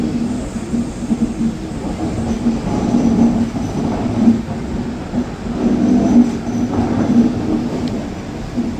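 A Mumbai Central–Hapa passenger train running along the track, with a steady, loud rumble and a rhythmic clatter of wheels over rail joints, close by and continuous, with no talk.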